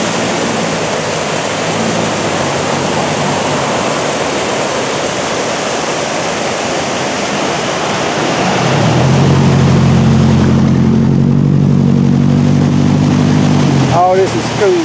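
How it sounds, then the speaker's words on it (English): Rushing river water roars steadily beside a road near a mill in the Ozarks, then a vehicle passes close with a rising engine rumble that holds for several seconds. "This is school traffic."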